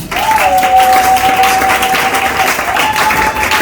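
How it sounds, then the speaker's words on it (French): A church congregation applauding, a dense, loud wash of clapping that fills the room steadily, with a sustained tone from a keyboard or organ carrying through. "Acclamons Jésus."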